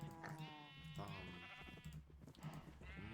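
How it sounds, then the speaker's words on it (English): Several sheep of different colours bleat in a farming video game, with wavering calls overlapping a voice talking over them. "Look at all these beautiful sheep."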